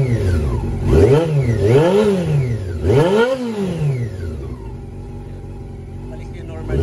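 A Honda CB400 Super Four motorcycle with a rectifier fault revs from idle in three rising-and-falling blips, loud and close, then settles back to a steady idle hum.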